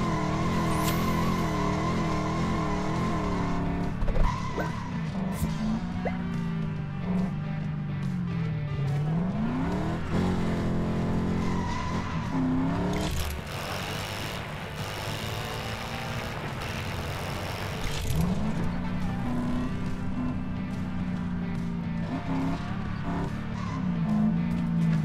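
Toy-like cars from LEGO 2K Drive cruise and drift, with a steady engine drone that rises and falls with revving and sliding tire sounds, continuous and fairly close, with no talk.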